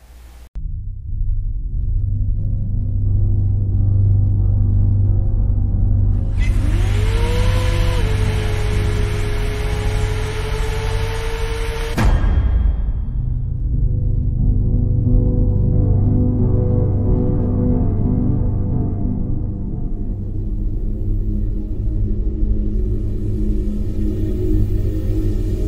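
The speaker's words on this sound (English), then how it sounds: "What you just saw is the eCopo Camaro" An eCopo Camaro electric drag car passes with a rising electric whine and a steady low rumble, loud and close, then the pitch cuts off abruptly and leaves a continuous low drone.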